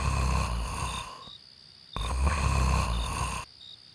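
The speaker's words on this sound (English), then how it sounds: "Dan was still asleep, snoring." A man asleep in a tent snores loudly and close by, two long rasping breaths separated by a short quiet pause.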